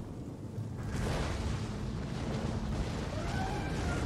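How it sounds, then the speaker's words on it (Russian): In a battle video game, a mortar fires explosive shells while Teutonic Order forces fight the Mongol Golden Horde. A continuous rumbling roar of explosions and battle noise swells after the first second and stays dense and loud throughout. "О, это уже мортирка долбит взрывными снарядами."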